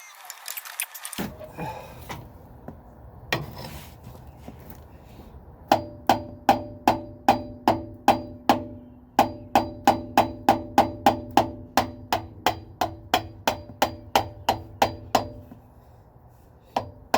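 A screwdriver is hammered into the oil filter during an oil change on a school bus with a DT466 engine, heard as a long run of loud, evenly spaced metallic hammer blows, close by, after a few scattered clanks.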